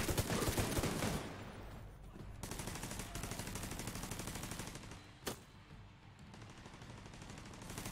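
Rapid automatic gunfire from a weapon in The Division video game, dense repeated shots in long bursts at moderate level, with one sharper crack partway through and no talk.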